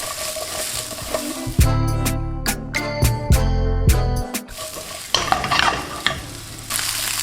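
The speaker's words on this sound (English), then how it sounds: "with your peppers and onions, just give it a toss and mix that." Peppers and onions tossed and sizzling in a hot pan for sweet and sour chicken, a close, loud crackling fry with scraping stirs, briefly overlaid by a short passage of musical tones in the middle.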